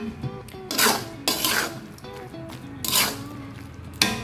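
A utensil stirs shrimp paste into taro leaf greens in a pan, with repeated scraping and clinking strokes in an uneven rhythm, close and moderately loud.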